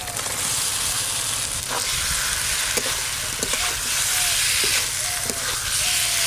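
Fried cauliflower goes into spiced masala in a wok and sizzles loudly and steadily, close up, with occasional scraping stirs cutting through the hiss.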